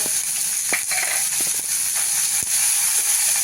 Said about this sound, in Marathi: लसूण पण घालूया त्याच्यात